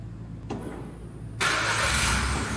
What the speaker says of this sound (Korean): 지금 시동을 한번 이제 걸어볼까요?